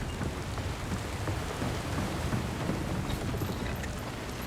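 Heavy, continuous rain in the video game No Rest for the Wicked, a dense loud wash with a low rumbling undertone like distant thunder, holding steady throughout with no voices.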